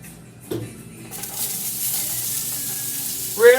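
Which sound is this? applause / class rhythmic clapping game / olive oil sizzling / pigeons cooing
olive oil sizzling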